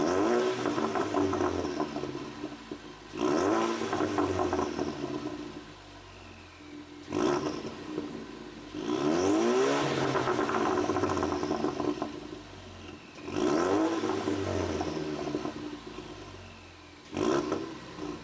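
A Ford Mustang EcoBoost engine with an aftermarket intake revs and roars through repeated accelerations, the exhaust rising and falling in strong waves with brief easing between pulls.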